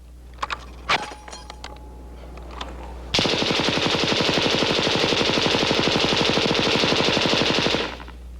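An HK machine gun fires at a 1970s factory firepower demonstration: after a few scattered metallic clicks and clinks, a loud, steady burst of rapid automatic fire rattles on for several seconds, then stops abruptly.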